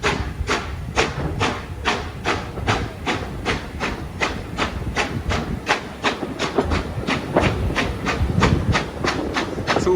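A steam train runs on the Keighley & Worth Valley Railway during a spring steam gala, its wheels beating a steady clickety-clack rhythm over rail joints under a constant rumble and hiss.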